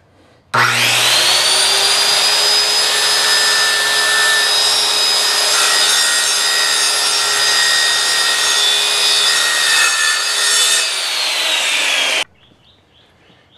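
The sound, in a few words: saw cutting a wood board edge square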